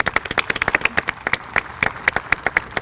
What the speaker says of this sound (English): Can I have a round of applause for these folks?